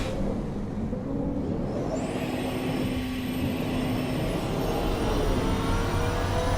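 A turbocharged race car engine in the driving game Automation, a 1985 IMSA GTO-style build, roars steadily while a high whine climbs in pitch as the turbo spools up, loud and continuous with no talking.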